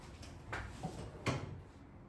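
Two or three short wooden knocks and slides of an apron drawer being opened and shut at close range, quiet and without talk.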